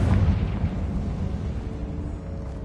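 Confringo spell explosion in the video game Hogwarts Legacy, a single heavy boom that rolls out into a rumbling, fading blast, loud and close with no talk.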